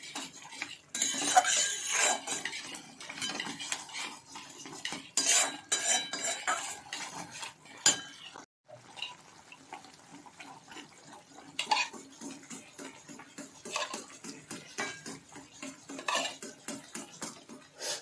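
Masala with Kashmiri chili powder is stirred and fried in a pan, with repeated clinks and scrapes of a utensil against metal under a soft background sizzle, without talking.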